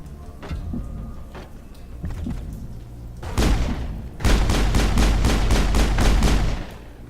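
Gunfire in the video game Mass Effect: a few scattered shots, then a louder volley, then a long rapid burst of evenly spaced automatic fire that stops abruptly.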